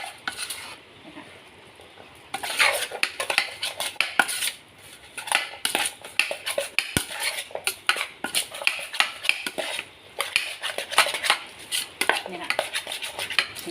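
Utensils clinking and scraping against a bowl as food is stirred and mixed, a steady run of close, sharp taps and scrapes, mostly alone with little talk, for a spicy Thai-style dish.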